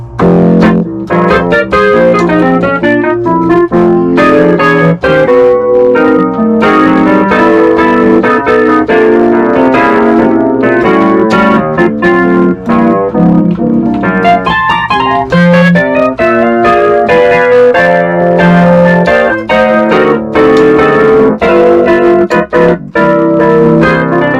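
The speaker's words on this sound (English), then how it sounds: "now the electric piano 2, which is the Reed piano" Reedy electric piano voice on a Williams Legato 88-key digital piano playing chords and melody continuously, bright and steady, with a sustained low bass underneath and no voices.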